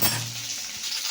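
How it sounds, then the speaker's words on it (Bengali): Pointed gourd (potol) frying in oil, a steady, close hiss and sizzle that holds evenly for a moment without a break. "যে পটলটাকে একটু ভাজতেই হবে,"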